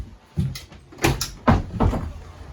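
A door opens at an air ambulance base, giving a few separate knocks and clunks of handle and latch, close and moderately loud, with no talk over them.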